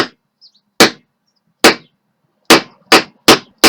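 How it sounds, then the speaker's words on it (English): A hammer strikes through a wooden ruler in five sharp, loud, close whacks spaced irregularly with silence between them, alone without talk. "give it a few good whacks until it goes through"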